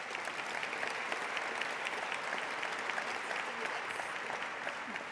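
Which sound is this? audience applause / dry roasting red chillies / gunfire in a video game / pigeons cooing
audience applause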